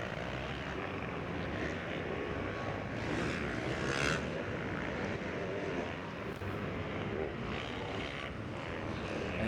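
A motocross bike at the 52nd Mammoth Mountain Motocross 450 Pro final moto roars past on its last lap, a steady loud engine drone filling the whole stretch without any voices.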